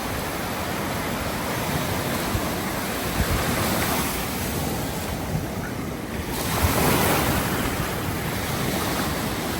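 Ocean surf washes onto the beach at Seaside Heights, New Jersey, a steady broadband roar of breaking waves with light wind buffeting the microphone and no voices.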